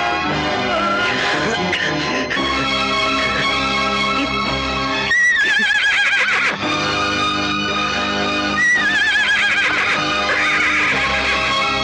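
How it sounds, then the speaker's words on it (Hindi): A horse whinnies twice in a film scene, its wavering neigh rising over loud, continuous music. "घोड़े को बाहर निकाल।"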